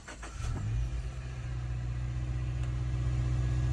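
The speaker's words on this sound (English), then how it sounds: "We're going to go ahead and fire this vehicle up. Does have push button start." A car with push-button start fires up and settles into a steady, close engine rumble, a short rising whir at the start giving way to an even idle.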